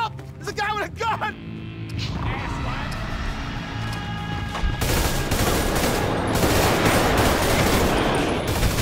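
Rapid bursts of gunfire from an armed man in the video game GTA 5, dense and continuous over the second half, following a few shouted voices and a busy street scene.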